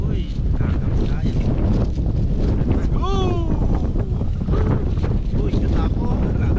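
Steady gusts of wind buffet the microphone at an outdoor shoreside meal, forming a loud, continuous rumble throughout, with people talking over it.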